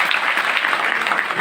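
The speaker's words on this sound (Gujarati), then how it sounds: "પ્લીઝ એકવાર જોરદાર તાળી" Audience clapping in a hall at an educational event, a dense steady burst of applause that fills the whole short stretch at close range, with no talking over it.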